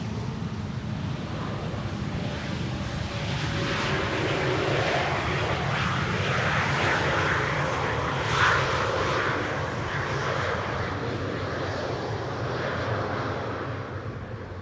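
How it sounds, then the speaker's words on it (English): An Airbus A400 military transport aircraft flies near Schiphol airport, its steady broadband propeller-engine roar holding fairly loud for the whole stretch and swelling slightly midway, with no talking. "Instantaneously recognizable as an A400."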